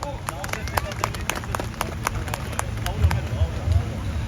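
Audience applause at a Pakistani poetry gathering welcoming poet Muhammad Sheeraz Ghafoor, steady clapping from the crowd with a little background murmur, swelling slightly toward the end.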